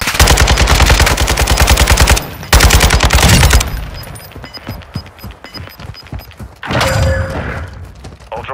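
Rapid automatic gunfire in Call of Duty Warzone DMZ, loud close bursts of rattling shots with brief pauses, then scattered single shots and another burst near the end.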